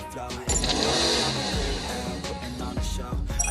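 A car in the PUBG Mobile game starts and revs up, a mid-pitched engine note that rises abruptly and stays loud, with game effects and a voice talking briefly over it.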